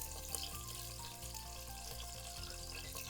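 Two onions fry in about four tablespoons of hot oil for vegetable pulao with soyabean, giving a steady, quiet, close sizzle and crackle that runs unbroken throughout.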